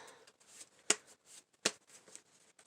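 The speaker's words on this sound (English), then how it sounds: "Let's do a little shuffle for you here, Aquarius." Oracle cards are shuffled quietly by hand, with soft papery riffles and two sharper slaps as the deck is squared, close and faint with brief gaps between.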